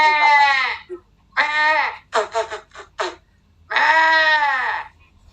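A male goat bleats loudly and close by in four separate calls. The first and last are long, wavering bleats, with a short stuttering series of bleats between them and quiet pauses in between.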